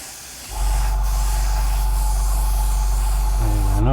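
Metallic spray paint hisses steadily from a can as a quick coat goes onto a model, close and continuous for a few seconds with a short sputter near the end.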